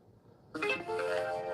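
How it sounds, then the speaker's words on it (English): A device gives a short, faint notification chime with bright ringing tones that start suddenly after near silence and sustain to the end. "Turn off all my notifications."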